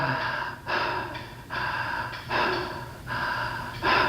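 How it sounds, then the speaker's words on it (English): A person demonstrates connected breathing with no pause between inhale and exhale, loud close breaths alternating in a steady rhythm of rushing inhales and exhales, about six in total. "we're not pausing between the inhale and exhale. So it's not a breath that goes"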